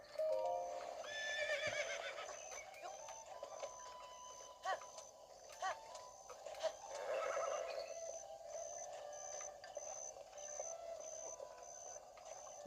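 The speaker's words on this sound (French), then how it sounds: "Là, vous voyez un cheval." A horse in The Legend of Zelda: Breath of the Wild neighs repeatedly with whinnying calls, and hooves clip-clop over steady game ambience and a faint repeating electronic beep.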